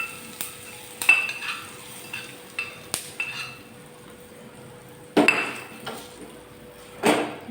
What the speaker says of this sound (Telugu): ఈ పోపు వేస్తున్నాను.